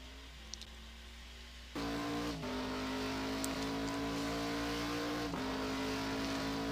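A Nissan GT-R R35 GT1 race car lapping a circuit during Dubai super pole qualifying, its engine note rising sharply into a loud, sustained high-revving drone with a brief shift dip, heard alone and close.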